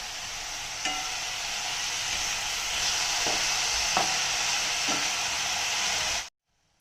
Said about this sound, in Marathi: त्याचबरोबर भिजवलेली मूग डाळ आणि चवीनुसार हळद मीठ घालून हे परतून घेऊया